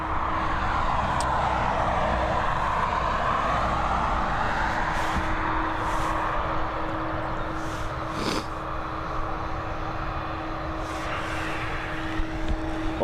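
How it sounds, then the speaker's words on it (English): An Airbus A320 going around at Dublin Airport gives a sustained, loud jet engine roar with a steady whine, continuous and fairly close, with a few brief clicks over it. "Oh, we've got a go around"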